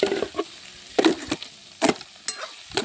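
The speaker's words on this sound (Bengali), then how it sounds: "তারপর ভালোভাবে নেড়ে চেড়ে উলিয়ে নেব।" Boiled papaya and potato pieces tossed with five-spice and whole mustard seeds in a hot wok, giving a few irregular scraping, sizzling bursts of stirring with quiet gaps between them.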